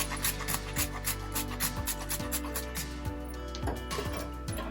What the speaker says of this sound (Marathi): थोडीशी विलायची पावडर टाकायची थोडंसं जायफळ किसायचं